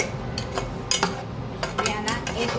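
A spoon scrapes and clinks against a metal pot as milk and rice kheer is stirred, giving several sharp close knocks and scrapes in uneven rhythm over a soft background hum, with no speech.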